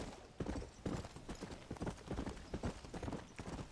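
A fire horse in a cowboy video game trots with rapid, rhythmic clip-clop hoofbeats, moderately close and steady, with no talk over them.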